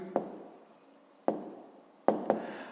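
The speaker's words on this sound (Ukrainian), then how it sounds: "Ну, а тепер записуємо відповідь." Pen on paper writing down the answer to a fifth-grade area exercise, heard as four distinct scratchy strokes spaced over a few seconds, close and quiet in an otherwise still room.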